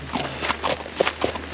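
A horse walks along a hiking trail, its hooves landing in a steady, moderately close clip-clop rhythm of soft thuds against quiet outdoor background.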